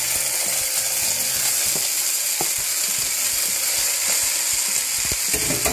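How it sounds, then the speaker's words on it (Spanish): Onion, leek, carrot and celery fry in a pan with a loud, dense sizzle broken by light clicks and stirring taps. "Ahora se sofríe toda la hortaliza."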